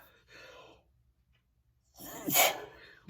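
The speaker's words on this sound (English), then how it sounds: "Once I start sneezing, I'm done." A breathy inhale, a short pause, then one sharp, forceful sneeze close to the microphone.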